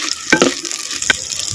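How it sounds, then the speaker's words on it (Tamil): Chopped small onions sizzle in hot ghee for a creamy white chicken kurma, with a steady crackle and a few sharp scraping stirs cutting through. "நெய்யில் சேர்த்த வெங்காயத்தை அப்படியே நல்லா வதக்கு நல்லா வதக்குறேன்."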